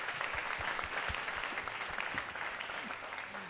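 Audience applause for a pianist at a Costa Rican music program, a steady wash of many hands clapping continuously throughout, fairly loud and close.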